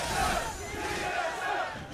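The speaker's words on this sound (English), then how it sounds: "Trying to figure out the chant the crowd is doing" Esports crowd in an arena chanting at a League of Legends LCS match between Renegades and NRG, a loud, continuous rhythmic group chant with no voices on top.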